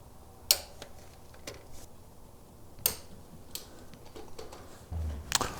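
Spark plugs being tightened to 13 foot-pounds with a torque wrench on a 5th-gen Toyota 4Runner: a few sharp metallic clicks stand apart from one another over a quiet background. No voices.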